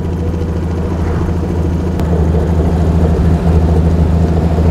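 A 1934 Talbot London AV105 engine pulls the car along at cruising speed, a steady, loud, low rumble with a droning hum that holds throughout, with no voices.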